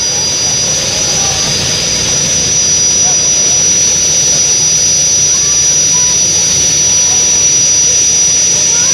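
Modified pulling tractor powered by modified aircraft engines at a county fair tractor pull in Perham, Minnesota, roaring loudly and steadily throughout with a high whine on top, while an announcer's voice talks over it.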